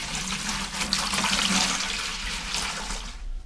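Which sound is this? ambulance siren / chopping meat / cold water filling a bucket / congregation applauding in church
cold water filling a bucket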